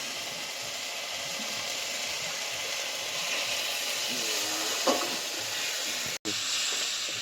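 Turmeric and ground spices frying in a pan, a steady close hiss and sizzle that runs without a break and is cut briefly by a sharp clatter near the end.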